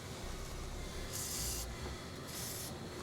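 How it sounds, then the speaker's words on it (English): Two short hissing bursts of aerosol spray lubricant, each lasting about half a second, over a steady background hum, while a trailer hitch is fitted under a 2016 Toyota RAV4. "A little spray lubricant and then a pry bar on the back side"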